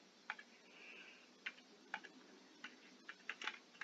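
Someone types on a computer keyboard in a quiet room, a soft uneven string of small key clicks with brief pauses between them.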